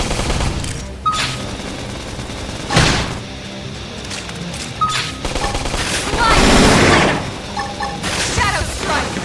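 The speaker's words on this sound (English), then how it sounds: "Flame grenade!" Flame grenade blasts and gunfire in Xenoblade Chronicles X Definitive Edition, with several booming explosions and sustained shooting amid combat voice callouts.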